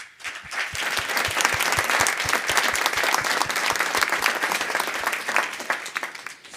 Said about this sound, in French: Alexandre et Marine sont là aujourd'hui et je voudrais qu'on les applaudisse